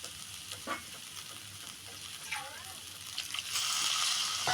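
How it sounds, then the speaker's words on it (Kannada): Potato kurma being stirred in a pan just after water is added, giving a steady sizzle with scraping stir sounds and brief clatters, moderately close and fairly quiet, with no talking. "ನೀರು ಹಾಕಿ ಈ ಥರ ತಿರುಗೋಣ."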